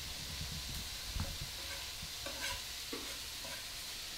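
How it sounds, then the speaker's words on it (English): Garlic and capsicum sizzle in a hot pan while being stirred, a quiet steady fry with scattered scraping and clinking of the utensil against the pan. "I'm going to add my garlic and capsicum in."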